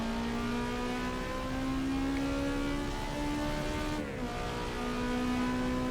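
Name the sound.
car engine revving in Assetto Corsa EVO video game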